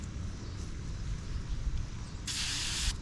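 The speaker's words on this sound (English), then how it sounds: "Spray away glass cleaner." Glass cleaner sprayed on a rollback tow truck during restoration, a soft steady hiss ending in a brighter, sharper burst of spray near the end.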